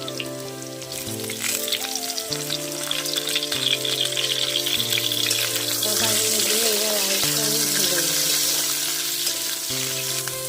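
Potatoes and vegetable stems sizzle steadily in a pan, a continuous close hiss of frying beneath loud background music.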